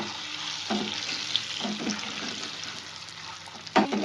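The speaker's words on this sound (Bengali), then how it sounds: "ডিমগুলো তো ভেজে নেবো।" Eggs frying one by one in hot oil seasoned with turmeric and salt for an egg curry, a steady soft sizzle with faint stirring scrapes and a brief louder clatter near the end.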